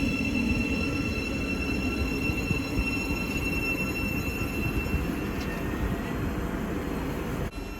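A Thameslink train on the Brighton to Cambridge service pulls out of Hitchin station on the East Coast Main Line, a steady, loud rumble of wheels and motors that holds throughout with faint high whines above it.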